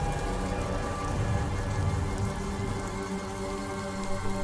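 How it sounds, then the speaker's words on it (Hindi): Heavy rain pours down steadily on a roadside where a motorbike has stopped beneath a big banyan tree, a dense, even hiss of drops hitting surfaces with no breaks. "बारिश इतनी तेज थी कि बाइक चलाना लगभग नामुमकिन था"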